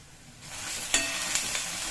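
Chopped onion and cumin fry with ginger garlic paste for a mushroom and pea masala, giving a steady close sizzle that swells after a quiet start and carries a few faint stirring scrapes.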